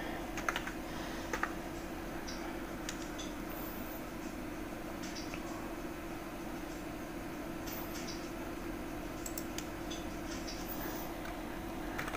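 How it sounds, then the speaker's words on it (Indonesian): Keys on a computer keyboard clatter in a steady stream of soft clicks, close and continuous over a constant low electrical hum, with no speech. "Jadi kita coba mengetik ulang."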